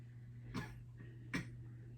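Two short, soft coughs a moment apart, fairly close, over a low steady hum.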